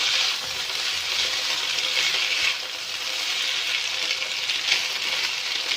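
Corn and chicken frying in a pan for corn macaroni, a steady close hiss of sizzling oil with soft stirring scrapes, running continuously and alone with no talk.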